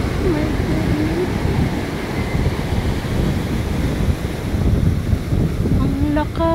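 Water surging and waves crashing in a steady, loud wash with gusts of wind buffeting the microphone, a brief voice-like tone rising near the end.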